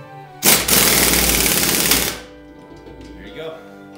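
Hydraulic press or clamp being tightened to force worn bushings out of a 1995 Chevy Suburban suspension: a loud sustained grinding, rattling burst for about two seconds, then quieter workshop noise.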